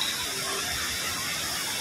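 Water rushes steadily in a stream where people fetch water, a close, loud, continuous gush with no breaks.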